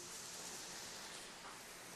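Hail coming down outdoors in a steady, dense hiss of pellets striking surfaces, close and continuous with no voices.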